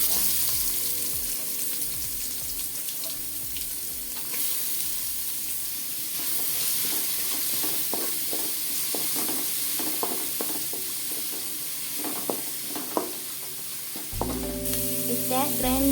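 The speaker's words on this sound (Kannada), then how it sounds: "ನೀರುಳ್ಳಿ ಪಾಕ" Onions sizzle loudly in a hot pan while being stirred, a constant crackling hiss broken by repeated scraping strokes of the spoon, close and clear with no talking.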